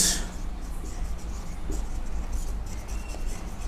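Pen or marker writing out chemical element symbols in a chemistry lecture on empirical and molecular formulas, a steady close scratching and rubbing that continues throughout with no talk.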